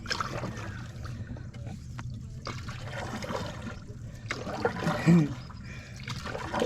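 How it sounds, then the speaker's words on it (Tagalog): Water trickles and laps against a small boat moving slowly, with occasional splashes and knocks, fairly close, with faint voices in the background. "Laki ng tubig kaya gumamit tayo ng bangka."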